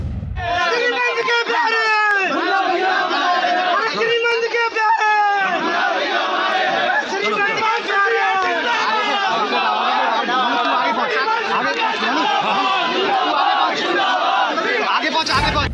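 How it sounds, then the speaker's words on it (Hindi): A large crowd of BJP supporters chants slogans demanding justice at a political gathering around Jyotiraditya Scindia's car, loud and continuous with many overlapping voices in rhythmic shouted calls throughout. "किस तरीके की नारेबाजी हो रही है, न्याय मांगे जा रहे हैं, न्याय दो न्याय दो"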